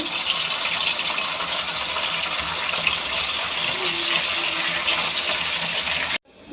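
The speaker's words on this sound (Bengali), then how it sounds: "এখন এই ডুবু তেলে আমি একটু ভেজে নেব দিয়ে দিলাম এখন একটু উল্টিয়ে দেবো মাছগুলো" Fish pieces frying in deep oil give a dense, loud, unbroken bubbling hiss up close, which cuts off abruptly near the end.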